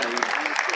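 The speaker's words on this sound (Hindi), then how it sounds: "तालियों की गड़गड़ाहट अगर चलती रही तो समा" Audience applause at a film event honouring guests, a short burst of dense clapping that stays steady and fairly loud throughout, with no gaps.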